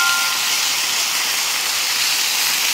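Spicy chicken bulgogi sizzling in an oiled pan: a loud, steady, dense hiss of frying meat, close up and continuous, with no talking.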